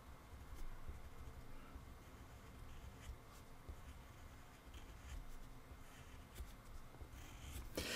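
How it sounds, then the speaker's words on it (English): A pencil writes on paper with soft, scratchy strokes and brief taps in an irregular rhythm, faint and close, with no talking. "let me pencil that one in"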